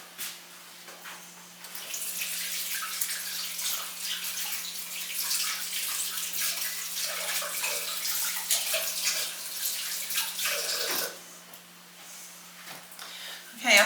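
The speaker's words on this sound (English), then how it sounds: "let me get my hands washed" Hands washed under a running kitchen tap, a steady close hiss of water for about nine seconds before the flow stops, with faint background sounds after.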